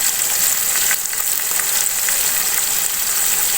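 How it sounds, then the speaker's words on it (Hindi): Spices sizzle and fry in a pan for chana daal pulao, with red chili powder, biryani masala and salt among them, making a loud, steady, close hiss with faint stirring and no talking. "अब थोड़ी देर मसाले को भून लेंगे।"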